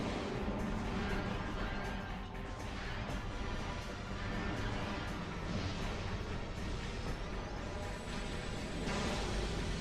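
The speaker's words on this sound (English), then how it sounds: "We're spamming missiles at this point." Rapid missile fire in Metroid Prime 2, a dense, continuous barrage of booming shots and crashing impacts layered over game music and effects, loud throughout with no pauses.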